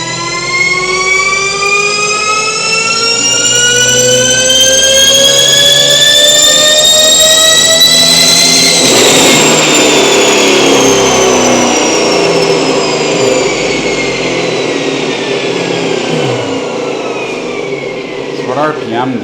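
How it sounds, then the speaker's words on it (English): An electric drive motor on a sensorless controller runs near full throttle with a loud, steady whine, its tones rising together over several seconds, then levelling off with a broad roar and slowly falling away. "I could tell the tone of the drive motor was different."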